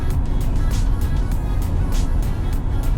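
A 2006 Toyota Camry with 279,000 miles accelerates, its engine a steady, loud, low droning rumble with faint higher whooshes, heard from close by with no pauses.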